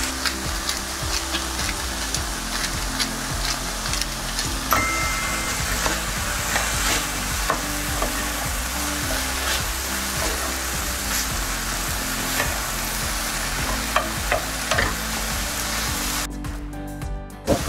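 Sweet pumpkin and kimchi fry and sizzle steadily in a pan while a utensil stirs and scrapes through them, close and continuous throughout, with a sharper clatter near the end.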